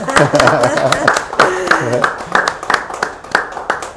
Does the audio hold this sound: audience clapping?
yes